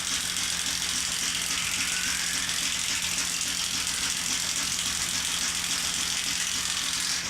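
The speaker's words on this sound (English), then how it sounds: "By turning this ball crank, you raise the cutter head up and down to control your depth of cut." A ball crank on a 19th-century steam-powered woodworking planer being turned to raise the cutter head, giving a steady, continuous mechanical ratcheting clatter over a constant machine-shop hum for several seconds.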